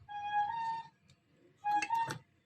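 A motorcycle's turn signals are switched on after repair of a shorted switch, giving a faint, steady ticking relay under a quiet room hum with two brief louder tonal bursts.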